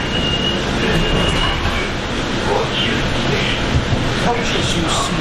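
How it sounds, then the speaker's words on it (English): A passenger train of Bombardier multi-level coaches pushed by an ALP-46 electric locomotive rumbles past heading toward New York Penn or Hoboken, a steady broad roar at fairly close range throughout, with a voice talking over it. "There goes a train heading into either New York Penn or to"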